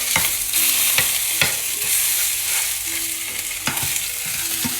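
Salmon fries in a pan with a steady, bright sizzle, broken now and then by a utensil tapping or scraping against the pan. It is close and fairly loud, with no talking.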